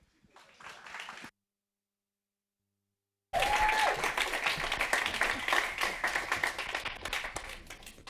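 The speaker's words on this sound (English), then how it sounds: "big round of applause for my man" Audience applause at a live-streamed Read the Docs gathering as a speaker is welcomed: a brief burst of clapping, then a gap of silence, then fuller sustained clapping from a crowd, fairly close and steady.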